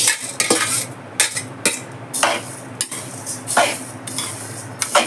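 A spoon scrapes and clinks repeatedly against a hot kadai while stirring a roasted black horse gram mixture, with rhythmic sharp metallic strokes and a dry rustle close up and no talking.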